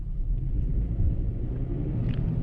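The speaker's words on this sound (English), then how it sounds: "So tires are spinning right now" A 2018 Toyota 4Runner TRD Off Road in rear-wheel drive with traction control off spins its tires in snow, giving a steady low engine and drivetrain rumble, loud and close.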